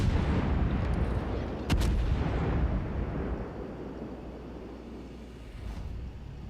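Ship guns fire in a naval battle video game, a loud booming salvo rolling into a long rumbling decay, with a sharper blast midway that fades into a low background rumble.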